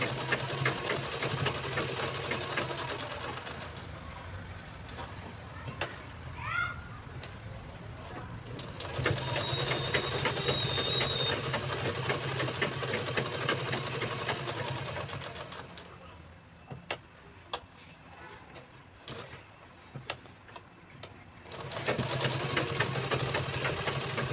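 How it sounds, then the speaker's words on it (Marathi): A sewing machine stitches along the side of a piece of fabric, running in a steady mid-level whir that pauses and restarts over several stretches, with no talking. "नंतर साईडने पण स्टिच करायचं आहे"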